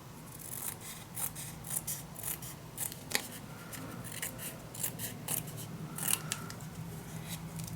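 Scissors cutting paper for a steampunk mini album, a series of short crisp snips and slicing strokes at irregular intervals, close and fairly quiet with no talking.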